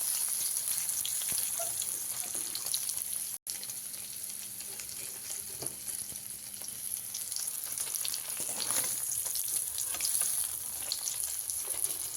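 Paneer cubes fry on high flame with salt, a steady, moderately quiet sizzle that runs without pause, joined by faint spatters and occasional stirring.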